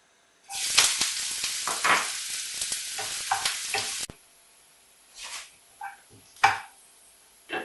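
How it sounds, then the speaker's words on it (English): Chopped onion sautés in hot oil with a loud, dense sizzle and stirring scrapes that stop suddenly midway, followed by a few isolated stirring and clattering sounds in near silence. "first heat some oil and saute the chopped onion"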